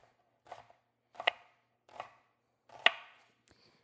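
A knife chops an onion on a cutting board in four or five distinct, evenly spaced cuts, each a sharp close knock in a quiet kitchen.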